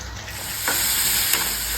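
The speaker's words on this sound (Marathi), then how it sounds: "तेल तापल्यावर मी टाकणार आहे मस्त ठेचलेली लसूण, कढीपत्ता, थोडीशी आलं लसूण पेस्ट" Crushed garlic, curry leaves and ginger-garlic paste frying in hot oil, producing a dense, steady sizzle that stays close and loud throughout, with a brief swell of spattering partway through and no voices.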